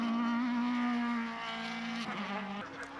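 Formula BOSS race cars on a track in Ireland, a sustained high engine drone at moderate distance that shifts pitch as cars pass, with a brief tire-squeal quality near the end.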